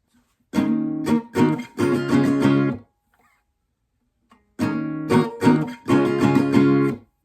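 Acoustic guitar playing the first half of the strumming pattern for a song (live version): two bursts of quick, rhythmic strums, close and clear, separated by a silent pause of about a second and a half.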